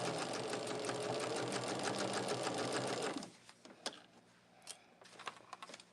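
A sewing machine stitches quilt borders in a fast, steady rattling whir for about three seconds, then stops, leaving scattered light clicks and handling taps.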